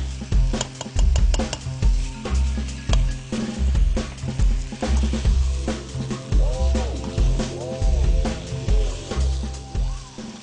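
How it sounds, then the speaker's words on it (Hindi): Chicken frying (bhuna) in a pan: repeated rhythmic scraping and stirring strokes over a steady sizzle, loud and close, with a faint voice in places. "और फिर आपने चिकन को भूनना है।"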